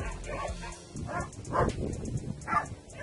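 Agitated dogs bark and whimper outdoors as a storm approaches, a few separate yelps and barks rising over steady wind noise, moderately loud and fairly close.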